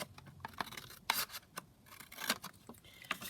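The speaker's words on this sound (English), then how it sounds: "I'm just going to trim that white section off." Scissors trim a white border off a sheet of printed paper, producing a series of close, crisp snips and light rustling scrapes in an uneven rhythm, quiet and without talk.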